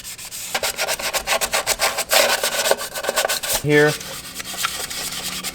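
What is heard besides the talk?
light scuffing of an ATV CVT drive surface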